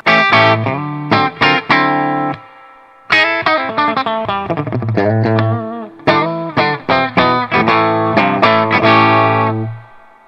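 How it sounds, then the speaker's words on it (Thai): Electric guitar played through a Bad Cat Cougar 50 amplifier with reverb, distorted chords and riffs ringing in loud, rhythmic bursts with short pauses and a wide, washy tail, no voices present. "รีเวิร์กเสียงส่วนตัวผมจะค่อนข้างชอบเสียงมันฟุ้งๆก้องๆกำลังดี"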